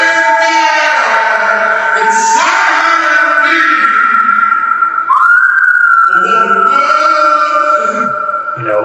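A whistled melody in a produced music track, layered and blended with the vocals. It sits prominently over a full, continuous mix, with long sustained and gliding notes throughout.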